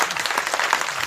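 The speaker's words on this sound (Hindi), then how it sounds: "सबके लिए एक बार सबसे जोरदार तालियां" A crowd applauding at a Hindu devotional jagran in Doda, Jammu and Kashmir, dense clapping that stays steady and lively through the short stretch, fairly close.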